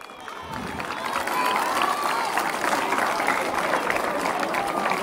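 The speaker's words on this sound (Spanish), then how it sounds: "Muchísimas gracias para ellos, esos aplausos." An audience at a school ceremony marking Arequipa's anniversary claps and cheers, the applause building after the first second and holding steady, with faint voices mixed into the crowd noise.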